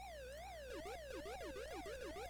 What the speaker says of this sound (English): The siren sound.